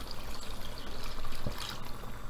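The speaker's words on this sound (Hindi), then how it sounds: "मैं फिलहाल इसमें डालूंगा ये 2 गिलास पानी।" Two glasses of water pour into a cooking pot of aloo gosht, a brief, close splashing trickle with a continuous watery hiss.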